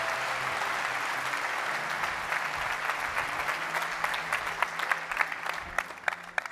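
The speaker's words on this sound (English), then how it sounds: "Please a warm round of applause for him." A large audience at the Sibos 2023 opening plenary applauds the Bank of America CEO in a warm, sustained wash of clapping, with sharper individual claps standing out as it thins toward the end.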